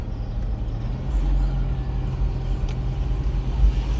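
A car passing nearby, a low steady engine rumble heard from inside another vehicle, swelling briefly toward the end.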